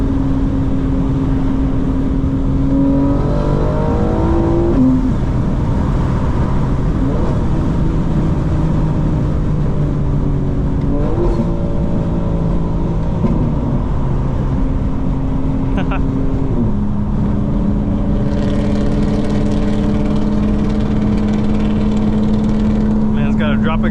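BMW M4 Competition xDrive, 2025, tuned to 900 hp, its engine droning loudly and steadily as it accelerates, tone climbing through gears with brief dips at shifts, while someone talks over it.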